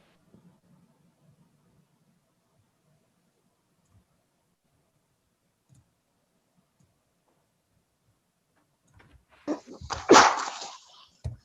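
A single sharp sneeze bursts out near the end of a long quiet stretch in a meeting room during a conservation commission session, loud against faint background murmurs.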